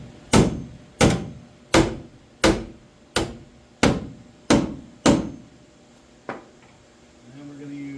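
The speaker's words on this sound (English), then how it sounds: "I'm going to start using these BFH slide hammer like a hammer and dolly." BFH slide hammer used like a hammer and dolly on dented sheet metal, eight sharp ringing metallic strikes at an even, steady pace, followed by a softer lone tap and then quiet.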